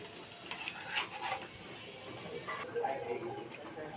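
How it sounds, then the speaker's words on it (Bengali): Pakoras frying crisp in hot oil, a steady sizzle with occasional clinks and stirring scrapes of utensils against the pan, close and fairly quiet throughout. "এই তো ভাজা শুরু করছি, ভাজা হয়ে যাচ্ছে।"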